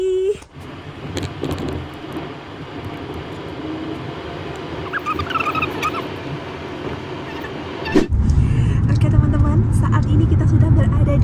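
Steady low rumble of a car driving, heard from inside the cabin, continuous road and engine noise that grows louder and heavier near the end, with people speaking over it.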